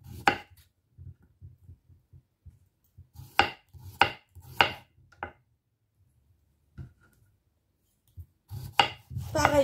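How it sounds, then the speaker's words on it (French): Knife slicing a partly peeled cucumber into thin rounds on a board, a few sharp separated cuts at close range with quiet gaps and faint low rubbing between them, ending in a quicker burst of chops. "On va l'éplucher 1 sur 2 et le couper en petites rondelles."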